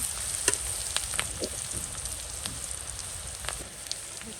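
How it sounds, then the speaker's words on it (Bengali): Onion and chili frying in a pan for a curry, a steady soft sizzle with scattered crackles and small stirring knocks, close and moderately quiet, with no talking. "আমি একটু প্রথমে পেঁয়াজ মরিচটা ভাজা নিতেছি"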